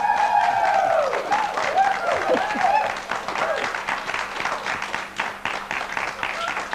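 Audience in a TV studio applauding as a band comes out, a dense wash of clapping with speech and tonal sounds over it early on, then more mixed clapping and voices.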